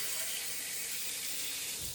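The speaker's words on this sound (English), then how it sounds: "So I'll add in like the cold water." Cold tap water pours steadily into a pan at a kitchen sink, a bright, continuous hissing splash held close and fairly quiet for the whole moment, trailing off slightly at the end.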